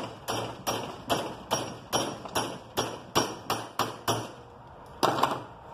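A hammer taps down a metal rod while a snare stand is being made, about a dozen sharp, evenly spaced metallic strikes close up with no talk.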